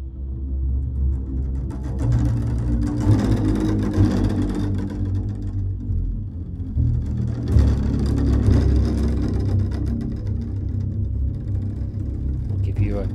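A Bunker Strings synthesizer string patch plays a full, sustained chordal pad with rich harmonics that swells and thins across the passage, loud and alone with no talking.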